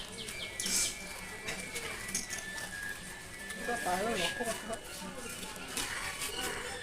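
Racing pigeons in a summer loft contest come down and settle on a light, with soft cooing and scattered chirps under steady, fairly loud commentary from a man, and broadband rustling of wings and background noise throughout.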